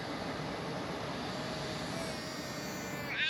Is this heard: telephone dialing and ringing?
no